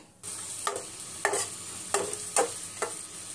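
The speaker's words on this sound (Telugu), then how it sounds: "నూనె పోసుకున్నాక ముందు ఉల్లిపాయలు వేసుకోవాలండి." Onions frying in oil in a kadai, a steady soft sizzle broken by several sharp scraping stirs at roughly even intervals, close by and with no voices.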